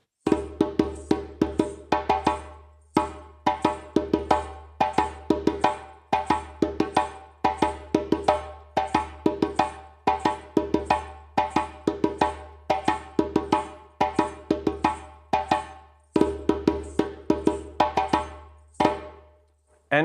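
Solo djembe working through the second accompaniment pattern for Fé, crisp hand strikes in a brisk, even repeating groove that runs continuously for about twenty seconds, close-miked and without voices.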